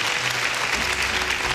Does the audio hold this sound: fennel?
no